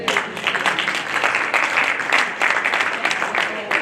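Steady applause from a quiz audience at the close of the first half, dense clapping filling the whole stretch at an even level.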